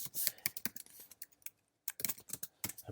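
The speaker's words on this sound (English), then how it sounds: "just roll tape of keyboard typing" Computer keys are typed rapidly in quick irregular bursts, close and quiet, with a short pause midway.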